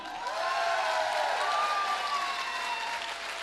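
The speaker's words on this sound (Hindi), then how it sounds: "जोरदार तालियां।" A crowd at a network-marketing company's stage event bursts into loud, sustained applause and some cheering, with drawn-out tonal sounds ringing above the clapping.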